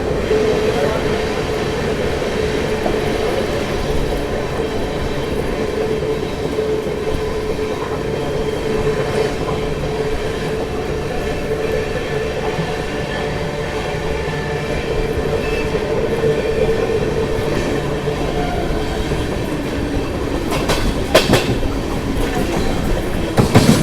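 Shatabdi Express passenger train running at speed through a station, heard from inside the coach as a steady loud rumble with clickety-clack of wheels on rail joints and brief squeals near the end.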